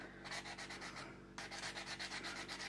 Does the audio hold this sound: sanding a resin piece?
yes